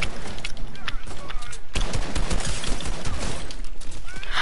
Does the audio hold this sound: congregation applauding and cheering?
no